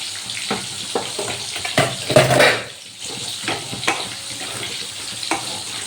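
Potatoes and spring onions frying together in a pan for a prawn and spring onion dish, giving a steady close sizzle with scraping stirs and a louder burst of crackle midway; no voices.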